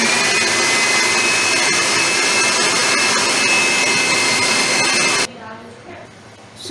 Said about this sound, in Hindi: इसको ब्लेंड कर लूंगी।